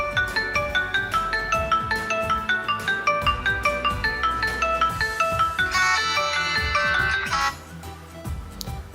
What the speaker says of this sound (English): So this was one of the ringtones which I had downloaded.